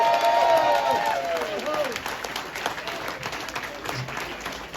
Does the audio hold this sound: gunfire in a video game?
no